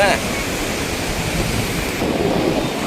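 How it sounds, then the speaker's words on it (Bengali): Surf at a river mouth, with sea waves rolling in and breaking as a steady, loud broadband wash that continues through the whole stretch, some wind noise mixed in. "এই জলের ঢেউ আসছে"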